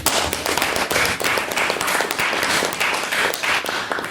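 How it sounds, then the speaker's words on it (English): At a formal debating society event, an audience gives loud, dense applause after a maiden speech. Continuous crackling clapping fills the room without pause and no speech is heard over it. "And can we give another round of applause for Andrew's maiden speech?"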